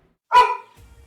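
A single sharp, loud bark rings out from a dog close by, followed by a faint low rumble.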